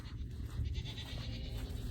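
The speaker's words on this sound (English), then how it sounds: "We're gonna go check on Dada. The goats." Goats bleat on a farm, a short, close, nasal call over a low rumbling background.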